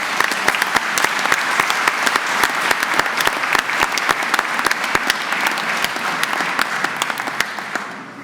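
Sustained applause fills a hall at a university graduation ceremony, dense crowd clapping with a few sharp, distinct claps standing out nearby, steady throughout and tapering slightly at the close.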